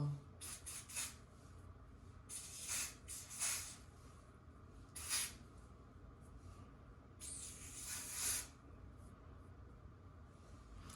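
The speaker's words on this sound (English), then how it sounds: "I'm going to take and spray over top of the lace too" Several short hissing bursts of hair spray over a wig's lace closure, some quick and clustered, others longer, over a quiet low background hum.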